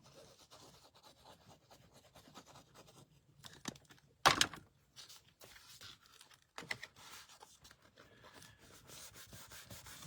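A glued paper piece is peeled away from a handmade mini accordion pouch, giving soft close rubbing and scraping with one sharp tearing burst in the middle, quiet overall.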